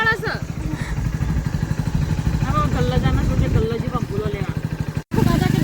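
A motorcycle engine thrums steadily throughout while riders talk over it, the drone nearby with a brief dropout near the end.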